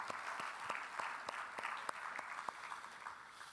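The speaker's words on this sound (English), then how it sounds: "So one more round of applause for our panelists today." Steady applause from a crowd, many hands clapping continuously with a few sharper claps standing out, fairly distant and even throughout.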